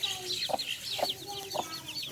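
Pet chickens cluck in short, rhythmic bursts over a steady backdrop of high chirping from nearby chicks, with three or four distinct clucks close by on a lawn.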